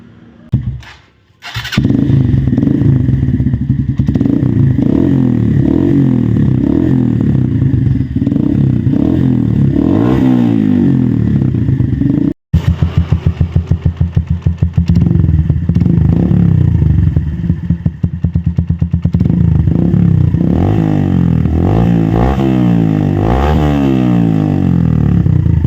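A motorcycle fitted with a new bottle-style exhaust pipe starts up and revs loudly, its engine rising and falling through repeated throttle blips, with a brief cut-out midway before the revving resumes, up close.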